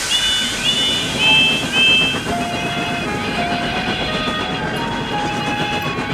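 A train rumbles steadily along with a rhythmic rattle, with high whistle-like tones sounding early on.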